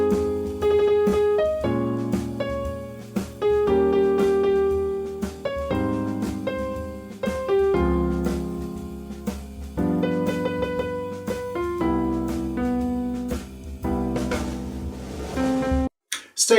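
Improvised single-note guitar line built on chord guide tones, each phrase moving from the 3rd to the 7th of the chord, played as a steady run of clear plucked notes with short gaps between phrases, loud and alone.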